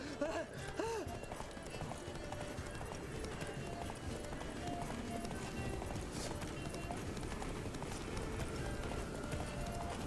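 Roach the horse galloping in The Witcher 3, quick rhythmic hoofbeats pounding steadily throughout, with a short whinny near the start and voices talking over the running.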